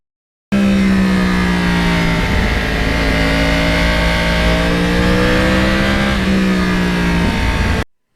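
Yamaha R1 crossplane engine screaming at full throttle, a loud close wail that climbs through the revs, drops briefly at a gear change, climbs again, then cuts off abruptly.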